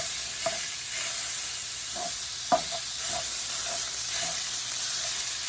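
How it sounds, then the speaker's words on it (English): Ground beef hamburger sizzles in a pan while being pushed around, a steady close hiss broken by scattered scraping taps of the spatula against the pan, with no one talking. "got the Hamburger going, and I just kind of move it around the pan"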